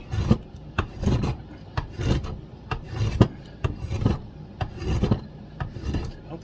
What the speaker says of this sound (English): So using the spoke shave is a little tricky.